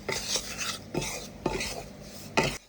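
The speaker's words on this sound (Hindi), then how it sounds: "अब हम इसको चलाते चलाते भूनेंगे और इसकी फ्लेम को कर देंगे लो" Wheat flour stirred and roasted on low flame in a pan, with a utensil scraping in a few distinct strokes, close and fairly quiet, with no voices.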